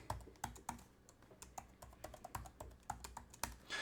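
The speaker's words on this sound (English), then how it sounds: "And we just type in a key here." Close, fairly quiet typing on a computer keyboard, a run of irregular key clicks and taps spread over a few seconds with no voices.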